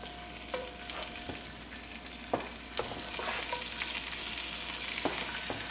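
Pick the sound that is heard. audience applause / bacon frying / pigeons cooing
bacon frying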